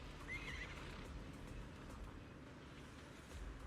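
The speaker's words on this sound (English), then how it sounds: "This horse head is truly something else." Horse neighing effect from the video game Zenless Zone Zero, a short whinny near the start over a low, busy game background, faint and without speech.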